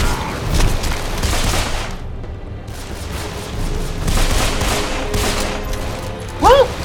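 Machine-gun strafing in the Deadfall Adventures video game, dense bursts of rapid gunfire and booms with a short lull midway, loud and close, ending in a brief whistling sound.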